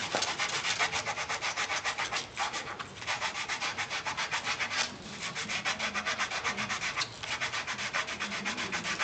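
A wooden spindle being hand sanded, close rhythmic back-and-forth rasping strokes in a steady repeating pattern with a few brief pauses, no talk.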